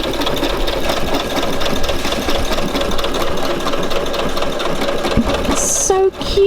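A new domestic sewing machine runs a selected stitch pattern, its needle chattering in a fast, steady mechanical rhythm close by, stopping abruptly near the end with a couple of short beeps.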